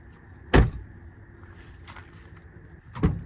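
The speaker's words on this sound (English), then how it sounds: "So this is the door with sound deadening" A car door fitted with sound deadening shuts twice with a dull, solid thump, close by, the two closings separated by a short quiet pause.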